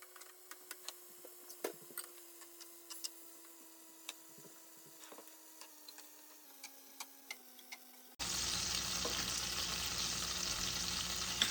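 Breakfast sandwich ingredients cooking in a pan on a carnivore diet, first faint scattered ticks and pops over a low hum, then a sudden steady loud sizzle of frying.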